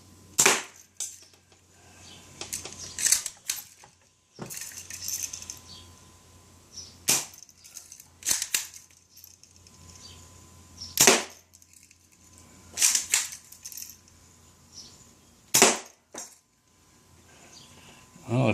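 A BB gun fired repeatedly at a small cardboard target outdoors, sharp close snapping cracks every couple of seconds with quiet gaps and faint handling noises between shots.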